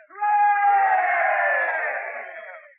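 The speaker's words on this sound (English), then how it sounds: "that cheer you just heard has just come by direct wire from Mousefield at Rodent, West Virginia" A broadcast crowd roars in a sustained cheer from a stadium in Mousefield at Rodent, West Virginia, swelling quickly and then fading gradually over a few seconds, with no talk over it.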